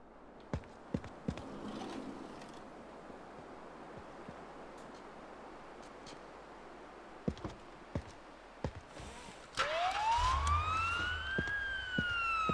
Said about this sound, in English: I wanted to turn the siren off.